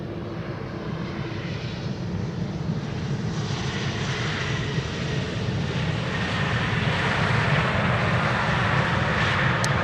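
Helvetic Embraer jet arriving at Amsterdam Schiphol Airport, its engine roar steady and broadband, slowly growing louder across the whole stretch with no talk over it.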